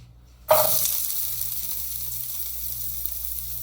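Carrots dropped into a pan with a little oil for a tofu stir fry, bursting into a loud, bright sizzle that starts abruptly and continues steadily, slowly easing off.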